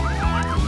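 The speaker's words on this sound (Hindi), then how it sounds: "पीछे पीछे पुलिस की गाड़ी अपनी सायरन की गूंज के साथ" A police car siren wails in rising and falling sweeps in an arcade-style offroad driving game, loud and close over a low engine drone.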